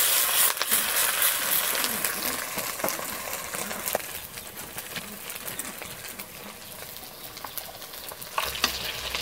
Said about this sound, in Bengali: আমার বড়া ভাজা শেষের দিকে হয়ে গেছে